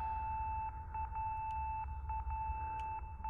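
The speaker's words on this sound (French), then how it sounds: "On entend une sonnerie." A steady electronic ringing tone sounds in the horror video game Project Zero 4, a constant high pitch with faint blips flickering over low background hum, quiet and with no talking.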